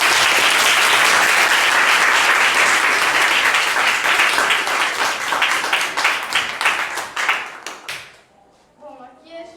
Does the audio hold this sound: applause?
yes